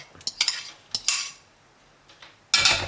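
A spoon scrapes and clinks against a pot as crème fraîche is stirred into a veal blanquette over low heat, several sharp metallic taps in quick succession, a pause, then a louder burst of scraping, with no talking.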